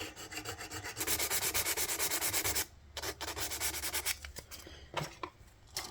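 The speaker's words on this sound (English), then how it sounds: "I use a little safe edge file to take off sharp" A small safe-edge file rasps back and forth across the nut of a Fender Squier Bass VI guitar, giving close, rhythmic scraping strokes with brief pauses between passes.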